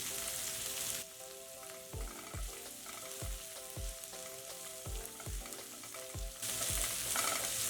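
Onions, ginger and garlic frying in a pan for a spicy village-style tomato-onion chutney, a steady close sizzle broken by regular stirring scrapes of a utensil against the pan, with no talking.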